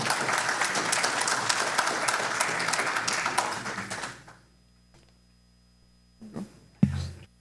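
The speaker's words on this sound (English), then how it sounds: "Round of applause for Trevor, please." Sustained applause from a crowd for a speaker at a talk on regional airline development fills the first four seconds, then fades to near silence, with a couple of brief bumps and thuds near the end.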